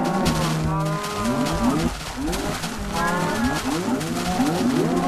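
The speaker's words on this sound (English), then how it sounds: "this will cause the cows to come towards me, wanting to get fed" Several Minecraft cows moo in overlapping, drawn-out calls as they crowd in to be fed wheat in a video game, a loud, continuous chorus with a brief lull midway.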